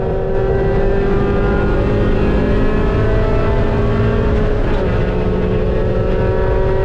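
An onboard race car at Mid-Ohio roars hard under throttle out of the carousel, a dense, loud, steady engine drone with rising pitch filling the whole stretch.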